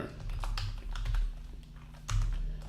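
Keys on a computer keyboard tapped while entering text into an Excel spreadsheet: quiet, close bursts of rapid keystrokes separated by brief pauses.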